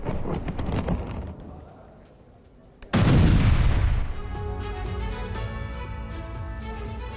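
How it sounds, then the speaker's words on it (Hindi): An explosion from a Ukrainian Neptune missile strike on an arms depot: a sudden loud boom after a quieter stretch, followed by a long rumbling roar and crackling that fades slowly. "यूक्रेन ने नेपच्यून मिसाइल से विस्फोट किया है"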